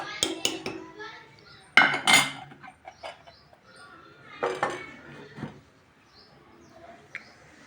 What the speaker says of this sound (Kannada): ಪಾತ್ರೆ ಸಾಮಾನೆಲ್ಲ ತೋ ವಾಶ್ ಮಾಡಿದ್ದೀನಿ ಎಲ್ಲ ಜೋಡಿಸ್ಬೇಕು